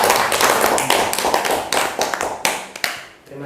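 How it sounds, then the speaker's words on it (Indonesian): Audience at a positive-culture dissemination event at SMA Al Hikmah Boarding School in Batu applauds, a dense, steady burst of many hands clapping that thins out and fades toward the end. "Ya, kita beri aplaus."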